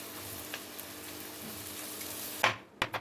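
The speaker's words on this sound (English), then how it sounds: "now add the chopped ginger, garlic, and green chilies, and fry again for 5 or 6 minutes" Chopped onions, ginger, garlic and green chilies fry in oil for a daal mash dish with a steady close sizzle, ending in a few sharp knocks of a spoon against the pan.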